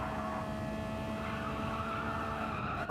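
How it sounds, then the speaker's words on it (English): Race car tyres squeal steadily in Gran Turismo 7 at Michelin Raceway Road Atlanta, a sustained skidding screech over a constant engine drone with no voices. "Oh, you could just hear the tyres squealing in a way that the Genesis didn't."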